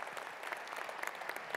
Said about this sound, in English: another round of applause for our distinguished panel